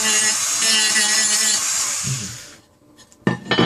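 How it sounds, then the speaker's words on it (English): Sanding a paintball marker receiver half on an HK G3-style Tippmann A5 build, a loud steady whirring power-tool grind that fades out, followed by a few brief scraping knocks. "Doesn't take much effort to get that sanded down."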